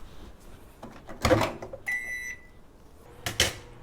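A microwave oven door clunks, followed by a run of beeps from its keypad and another door thud, close by with no talking.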